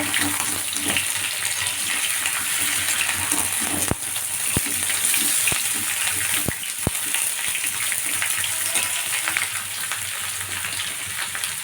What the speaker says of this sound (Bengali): এবার ভালো করে এটাকে তেলের মধ্যে ভেজে নেব।